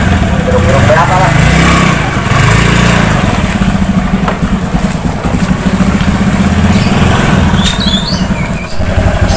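A motorcycle engine revs loud and close with a rough, fluctuating growl that swells and dips continuously, with voices mixed in.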